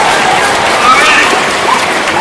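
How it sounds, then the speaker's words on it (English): Loud, dense applause from a large audience at a middle school anniversary assembly, sustained clapping that fills the room without a break. "Give them a round of applause."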